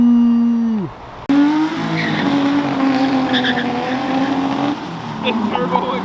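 Ferrari cars leaving a Ferrari festival in Houston, with a loud engine rising and falling, then a sustained tire squeal and revving that fades slightly, heard close with people talking over it.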